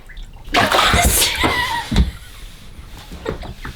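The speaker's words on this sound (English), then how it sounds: "Just dumped all the dirty water." Dirty water pours from a bucket and splashes out in a short loud gush, then trickles off into quieter drips and small splatters.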